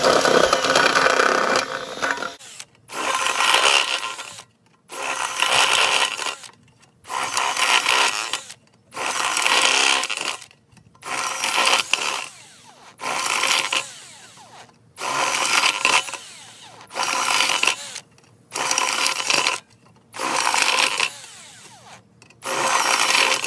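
A step drill bit is driven slowly into sheet metal to make a hobo stove, a loud grinding ratchety chatter that comes in about ten steady bursts with short pauses between them.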